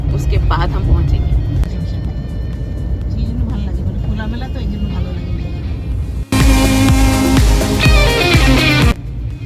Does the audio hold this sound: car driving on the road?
yes